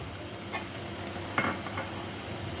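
Chicken shahi korma with yogurt and almonds stirred in a pan, a few scraping strokes over a low steady sizzle, close and moderately quiet.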